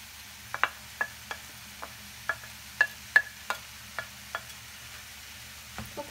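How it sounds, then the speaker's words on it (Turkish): Tomato, red pepper, two green peppers, onion and garlic sautéing together with mushrooms in a pan, heard as a series of sharp, evenly spaced stirring clicks and scrapes over a faint low sizzle, with no talking. "biraz daha hepsini birden kavuracağım."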